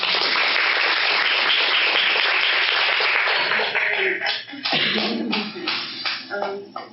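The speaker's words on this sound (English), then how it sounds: "Please give her a big round of applause." Audience applause welcoming a guest speaker to a lecture on reproductive justice, sustained dense clapping that breaks into scattered, uneven claps as it dies away, with talk emerging at the end.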